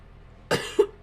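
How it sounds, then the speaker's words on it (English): A person coughs twice, close and fairly loud, in sharp bursts against a quiet background during a gaming session. "I don't know why I'm coughing so much."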